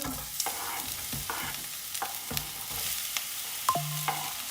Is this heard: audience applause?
no